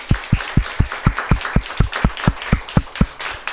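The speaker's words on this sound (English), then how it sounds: "So one final big round of applause for everybody." Clapping at a TEDxFolkestone event, a loud, even run of single claps about four per second, close and regular, with no voices over it.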